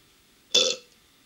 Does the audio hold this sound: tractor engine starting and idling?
no